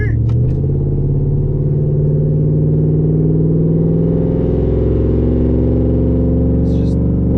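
A truck with a full exhaust and tune accelerates, its engine drone rising steadily and filling the clip with a loud, continuous rumble.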